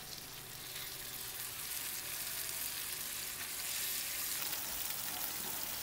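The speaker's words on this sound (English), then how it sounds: "let it melt and get sizzling hot, and then it's time to drop a couple of burgers" Burgers sizzle in melted Wagyu beef tallow on a hot grill plate, a loud, steady, close crackling hiss that carries on unbroken with no talking.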